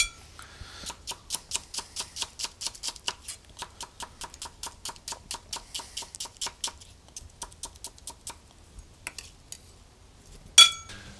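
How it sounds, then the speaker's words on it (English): Knife chopping onions for a curry paste on a board, a steady run of about thirty crisp, evenly spaced taps close by, pausing briefly near the end before one louder knock. "Nothing quite like the serene and soft sounds of chopping"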